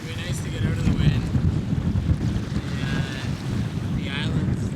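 Wind and heavy waves on Lake Winnipegosis heard from a canoe, with a steady broadband rush and low rumble throughout, close and fairly loud, and brief higher splashes or creaks over it.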